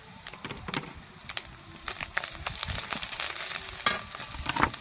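Chili powder and turmeric powder sizzling and frying in a pan for a pointed gourd and prawn dolma, a steady close crackle with stirring scrapes throughout.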